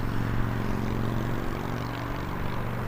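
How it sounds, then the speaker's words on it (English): An Aer Lingus airliner pushing back at Birmingham airport, a constant loud engine drone with a steady low hum, heard on its own without voices. "Do have an Aer Lingus pushing back as we speak"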